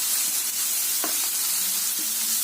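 Spices with tamarind and asafoetida roast in a hot pan with a soft, continuous sizzle, broken by a couple of brief scraping stirs.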